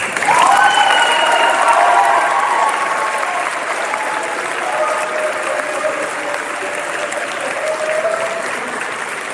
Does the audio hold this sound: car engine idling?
no